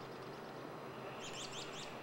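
Birds outdoors near a lodge in Talkeetna, Alaska, giving a short burst of several quick, faint chirps toward the end over a steady hiss of background noise.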